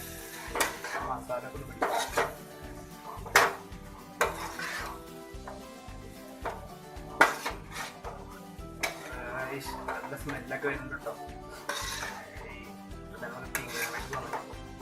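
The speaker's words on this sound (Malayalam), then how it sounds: "അപ്പൊ നന്നായിട്ടൊന്ന് ഇളക്കി കൊടുക്കുക." Tapioca and egg masala being stirred in a pan for a thattukada-style dish, with repeated clanks and scrapes of a metal utensil against the pan under a voice talking throughout.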